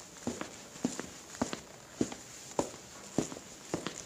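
Footsteps land outside a closet door, a steady, evenly spaced series of seven or so thuds at walking pace, moderately close and heard alone.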